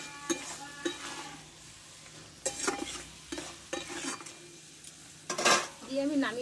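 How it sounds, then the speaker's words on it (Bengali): Pumpkin is stirred with ghee and spices in a pan, giving irregular scraping strokes of a spoon against the metal over a soft sizzle, with a brief voice near the end. "ঘি আর মশলাটা দিয়ে একটু নাড়াচাড়া করে নেব।"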